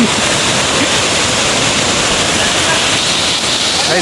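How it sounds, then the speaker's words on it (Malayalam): A waterfall roaring loudly and steadily from close by, a dense unbroken rush of falling water with no pauses. "ഇതാണ് വെള്ളച്ചാട്ടം കണ്ടോ ഇവിടെ വന്ന വെള്ളച്ചാട്ടമാണ്"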